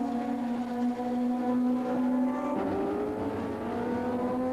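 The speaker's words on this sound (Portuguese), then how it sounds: "Os carros estão muito próximos, loucos por posições." Racing cars at a 1980s auto race give a continuous engine drone whose pitch holds and then shifts partway through as the cars run close together, with no voices.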